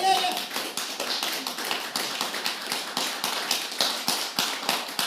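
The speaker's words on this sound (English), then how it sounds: "Applaud her, too" Applause from a small audience on an informal music show, with a handful of people clapping in an uneven, fairly close patter that carries on steadily for several seconds.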